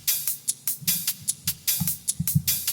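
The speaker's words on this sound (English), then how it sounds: "On its own, the hat pattern would sound like this." A programmed dubstep hi-hat pattern, crisp bright ticks alternating in a quick syncopated rhythm with soft low thumps beneath, playing alone at moderate level.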